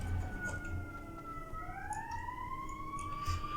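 A warbling siren sounds in World of Warcraft Classic inside the Sunken Temple of Atal'Hakkar, a faint rising and falling wail drawn out under low game ambience.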